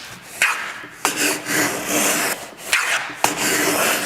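Hand plane making passes along a shooting board to trim a wooden miter, with repeated scraping, rasping shaves at a steady rhythm, several strokes close and fairly loud.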